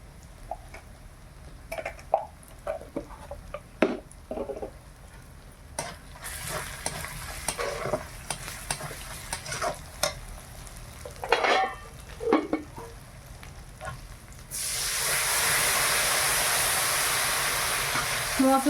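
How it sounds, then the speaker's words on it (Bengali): Spice paste with Kashmiri red chilli fries in a pan for prawn malai curry. Scattered scrapes and clatters of stirring come first, then spice water is added and a loud, continuous hissing sizzle takes over for the final seconds. "মশলা বাটার জলটা ছিল সেটা একটু একটু দিচ্ছি, মশলাটা ভালো করে ভাজা হোক।"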